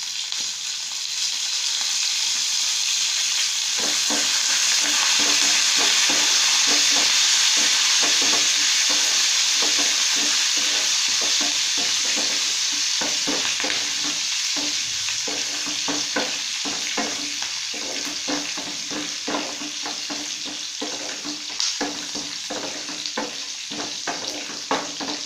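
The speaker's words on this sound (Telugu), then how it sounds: "చివరిగా కరివేపాకు వేసుకోవాలి" Curry leaves fry in hot tempering oil for a ponnaganti greens fry, a loud, steady sizzle full of dense crackles and pops that goes on throughout.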